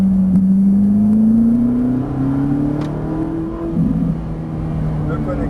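A car engine revs and pulls hard at full throttle, its pitch climbing steadily as it accelerates, with a driving instructor talking in French over the engine noise.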